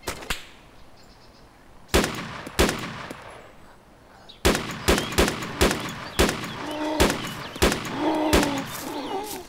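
Gunfire in the video game Arma 2 DayZ: loud, sharp single shots and short bursts crack out irregularly, each with a ringing tail, while faint bird-like chirps sound in the background between them.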